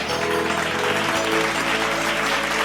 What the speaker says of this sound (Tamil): கைத்தட்டு ஒரு தடவை